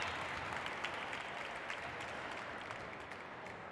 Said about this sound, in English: Got the crowd getting behind Carlos here now.